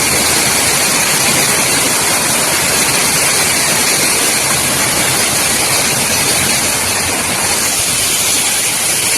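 Lake water near Sholinghur overflowing and rushing over a weir, a loud, close, continuous roar of churning water that stays steady throughout with no speech.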